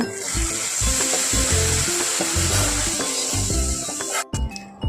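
A hot chili powder and curry leaf tempering hisses loudly as it is poured into a buttermilk curry (moru curry), then cuts off abruptly, with dull low thumps running underneath.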